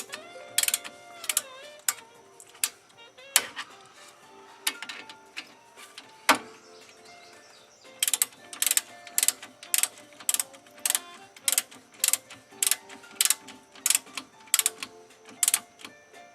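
A ratchet with a socket clicks rapidly while snugging bolts on a Jeep Wrangler hub, sharp close ticks in quick bursts at first, then a steady run of regular clicks.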